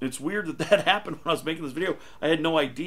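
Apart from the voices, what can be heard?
None of the usual background noises is heard.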